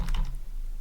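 Fast typing on a computer keyboard, a short cluster of crisp clicks in the first third of a second followed by quiet room tone, close and moderately loud with no voices.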